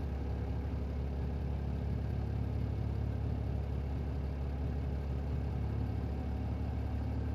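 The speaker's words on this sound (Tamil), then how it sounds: "இப்போ லைட்டா நான் வந்து ரேஸ் மட்டும் கொடுக்குறேன்." A Mahindra Blazo X35 tipper lorry's heavy diesel engine idles steadily with a deep, continuous rumble, lightly revved so the drone swells a little, close and constant throughout.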